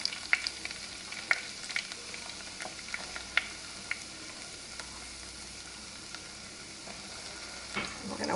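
Melted butter and flour are whisked together in a saucepan: a soft bubbling sizzle broken by sharp metallic clicks and taps of the whisk against the pan, close and fairly quiet.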